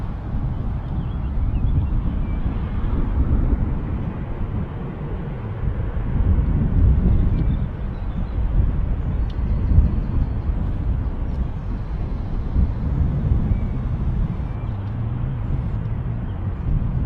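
A jet airliner at Manchester Airport, heard as a steady, loud, low roar of engine noise with wind buffeting, continuous for the whole stretch with no talk.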